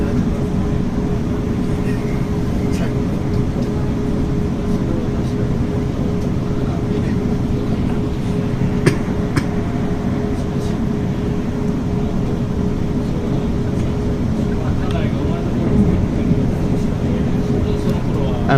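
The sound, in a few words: train running on rails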